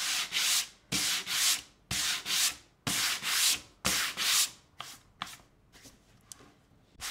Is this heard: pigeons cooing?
no